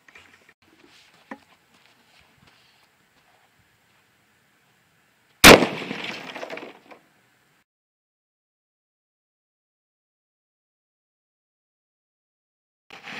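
A 5.56 Diamondback rifle fires into a block of ice, making a single sharp, loud crack with a short shattering tail. Faint scattered taps come before the shot, and there is near silence after it.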